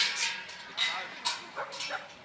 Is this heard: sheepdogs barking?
yes